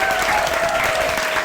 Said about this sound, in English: Help me give her a big round of applause.